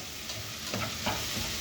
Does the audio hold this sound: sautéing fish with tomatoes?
yes